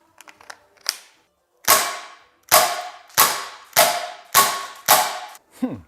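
A Walther PDP CO2 air pistol rated at 3 joules firing pellets, six sharp evenly spaced cracks close by, each with a short decaying ring, preceded by a few light mechanical clicks.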